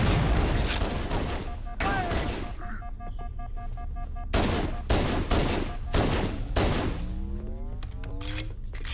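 Gunfire in Halo: Combat Evolved, repeated loud bursts of automatic and single shots in uneven volleys, close and sharp, with ringing mechanical tones between shots.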